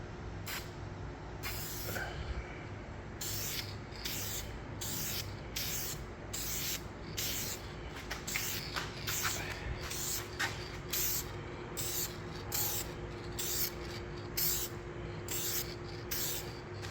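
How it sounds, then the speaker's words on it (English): An aerosol can of tint sprays onto Cadillac CT6 tail lights in a steady run of short hissing bursts, close and regular, over a low background hum. "Again, make sure you're sprayed and in the right direction."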